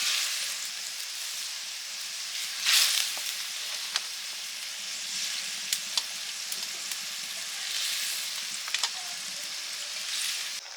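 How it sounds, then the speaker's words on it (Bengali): Fried rupchanda fish pieces added to a boiling fish curry, with a steady, moderately loud sizzling hiss, a few brief louder bursts and scattered small clicks. "ঝোল ফুটে গেছে ঝোলে ভেজে রাখা মাছের পেটিগুলো দিয়ে দিচ্ছি"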